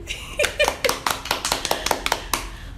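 A small group claps in a studio-style broadcast setting, a short burst of sharp, fairly close handclaps in an uneven rhythm lasting under three seconds.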